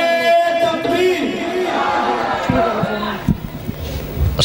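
A religious gathering's crowd roars back in unison to the Nara-e-Takbeer chant, a loud sustained group shout that fades after about three seconds into scattered shuffling and low background noise.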